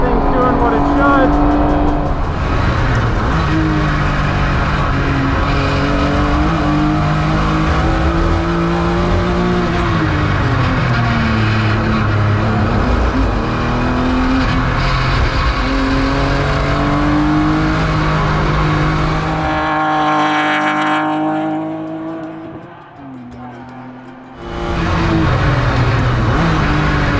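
A 1990s import sports car runs fast on a race track, its engine loud and close as it revs and climbs through gears. Near the end the revs drop sharply and the engine briefly falls quiet before it pulls hard again.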